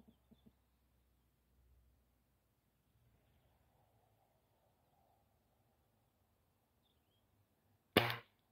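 An air rifle fires a single sharp, loud crack near the end, after a long stretch of near silence with only faint rustles and small handling clicks.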